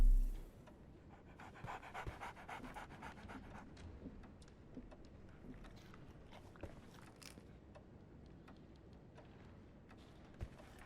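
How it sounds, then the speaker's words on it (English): A dog pants steadily in the detective game Sherlock Holmes The Awakened, rapid quiet breathing repeating for several seconds with occasional soft ticks and clicks around it, no talking. "So, Barnes has a dog now"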